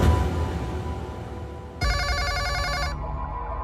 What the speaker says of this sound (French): Le téléphone sonne chez la mère de Lisa.